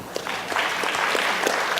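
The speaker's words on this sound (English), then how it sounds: "Give yourself a round of applause." A convention audience claps together in a steady, dense patter that runs the whole time, fairly close and even in loudness, with no talk over it.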